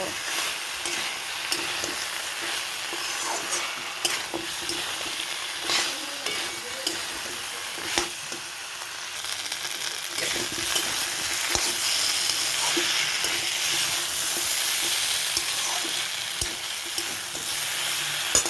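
Potatoes, pointed gourd and lentil dumplings sauté in a pan, a steady sizzling hiss broken by frequent scraping clicks of a spatula stirring throughout, close and continuous.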